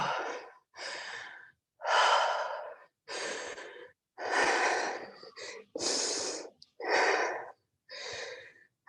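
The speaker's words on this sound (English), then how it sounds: "Hold and breathe." Heavy, audible breaths while someone holds a plank in a Pilates fusion workout: about nine strong, close inhales and exhales in a steady rhythm, separated by short silences.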